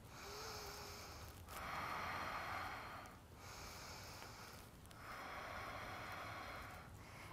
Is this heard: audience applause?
no